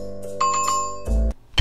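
A short electronic bell chime rings a few times, followed by a brief low thump and another bright ding at the end.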